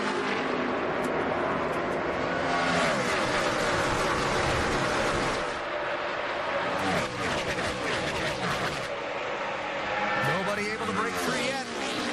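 A field of 2011 NASCAR stock cars roars at full throttle through a green-flag restart at the Bank of America 500, a loud dense engine wash with cars sweeping past, under continuous commentary.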